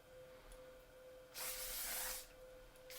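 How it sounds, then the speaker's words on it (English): A short pressurized spray of Juvia's Place makeup setting spray hisses once for about a second, close and steady, in an otherwise quiet room. "a little bit of my Juvia's Place setting spray"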